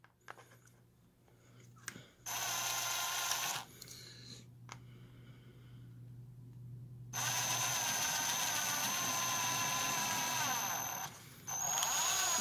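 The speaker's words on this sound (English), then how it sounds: "this is just a Harbor Freight drill that my wife got me" A Harbor Freight electric drill whirs in several bursts, stopping and starting, loud and close, with quiet pauses and a low hum between runs.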